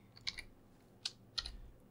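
Quick keystrokes on a computer keyboard enter a shell command, a few sharp separate clicks in small bursts over a quiet background, close and alone.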